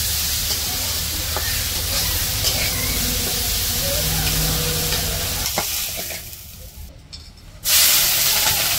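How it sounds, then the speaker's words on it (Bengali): Fish frying in oil in a wok over a village cooking fire, a steady broad sizzle and hiss with stirring scrapes, dropping briefly quieter before the loud frying surges back. "এখন এই যে মাছগুলো ভাজবো"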